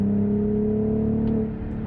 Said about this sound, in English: you can just hear the engine